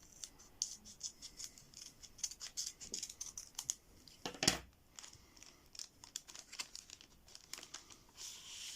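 FIFA World Cup 2022 sticker packs being torn open and handled, heard as close crinkling foil and paper wrappers with rapid tearing and rustling and one sharper rip partway through.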